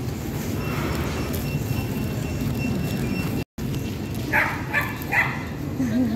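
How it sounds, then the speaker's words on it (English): A dog barks twice in quick succession later on, fairly distinct over steady low background rumble and nearby talking. "Another dog."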